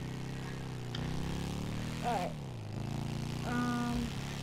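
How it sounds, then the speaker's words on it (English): Helicopter rotor and engine drone in Grand Theft Auto V rise and shift in pitch during flight, heard fairly close with short bursts of game sounds, while a person speaks briefly over it. "Finally in a helicopter because this guy keeps shooting me down."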